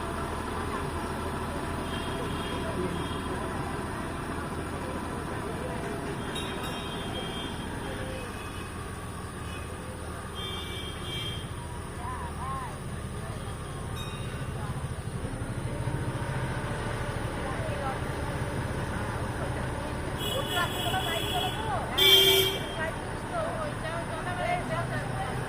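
A passenger launch boat slowly pulls away from a ghat on the Ganges, its engine a steady low droning hum throughout, with voices and faint background activity around it.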